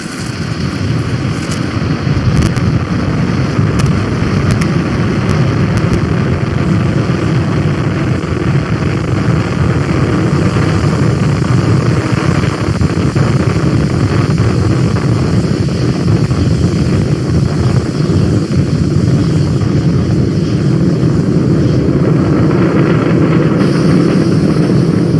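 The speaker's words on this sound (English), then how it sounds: "Falcon 9 has successfully lifted off from our pad 39A at the Kennedy Space Center" A SpaceX Falcon 9 rocket lifts off from pad 39A at Kennedy Space Center with a loud, continuous broadband roar that rumbles and crackles without letup for the whole stretch.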